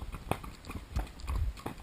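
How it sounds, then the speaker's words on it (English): Hooves of a naturally active ridden horse clip-clopping in a steady, uneven rhythm close by, with soft rustling and breathing between footfalls and no talking. "he's quite a naturally active horse, and Nini"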